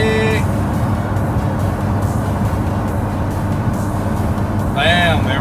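A 2018 Ford GT engine runs on a dyno with a steady, loud, low rumble throughout. Someone talks over it.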